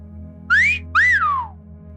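Two clear human whistles, the first rising and the second swooping up then gliding down, loud and close over a steady low hum, in a rural Brazilian setting.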